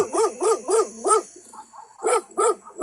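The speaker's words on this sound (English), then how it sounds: "Thomas, get a hold of your dogs, for Christ's sakes." Thomas's dogs bark loudly and close by: a quick run of four barks, a short pause with faint rustling, then two more barks.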